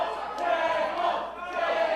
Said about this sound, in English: You hear what our crowd wants here.